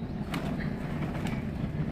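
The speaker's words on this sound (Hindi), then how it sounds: "गाइस बहुत प्यारा कबूतर है माशाल्लाह" A brightly coloured pigeon giving soft, low cooing over a steady background hum, close and fairly quiet, with short faint calls throughout.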